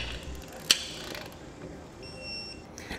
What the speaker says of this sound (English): Then we'll get each bolt torqued down.